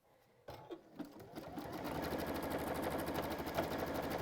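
A sewing machine stitches along the edge of seaside-print bunting fabric, starting after a brief pause and then running steadily and fairly loud with a fast, even mechanical whir.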